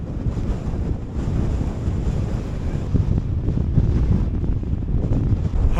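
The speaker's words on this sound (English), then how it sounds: "then you get on top, it's blowing a gale" Gale-force wind batters the microphone on the Melbreak summit, a loud unbroken low roar with rushing gusts rising and falling throughout, no voices present.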